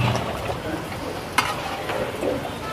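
Kala bhuna meat stirred and fried in a pan at a market stall, a steady close sizzle with scraping stir strokes and a sharp clank of the spatula midway.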